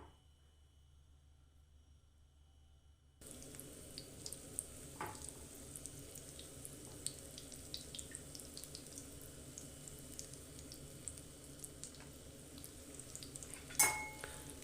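Chicken shami kababs frying in oil in a pan on medium heat: after a quiet start, a steady close sizzle and crackle sets in and continues, with a brief clatter near the end.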